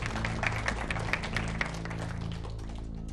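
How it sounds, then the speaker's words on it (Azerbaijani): An audience at a school quiz show applauds a team's score with steady, dense clapping that fills the room and holds at an even level throughout, with no voices standing out. "Alqışlar"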